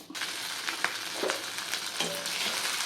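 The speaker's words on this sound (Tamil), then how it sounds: "இப்போ நம்ம அரைச்சி வச்சோம் இல்லையா தொகையில் அதை வந்து இதில் போட்டு நல்லா மிக்ஸ் பண்ணிக்கலாம்" Ground turkey berry paste stirred into hot oil with popped mustard seeds for a chutney: a steady, close sizzle with a few soft scraping stirs.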